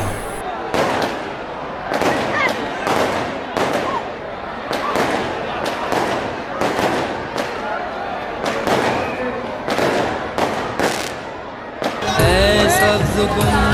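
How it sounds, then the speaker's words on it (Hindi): Fireworks display at a shrine's urs festival, a long series of sharp booming bursts, some in quick pairs, loud and crowded with a buzz of people; the bangs stop near the end and music takes over. "चरागाह के बाद फायर वर्क का शानदार मुजाहरा किया गया"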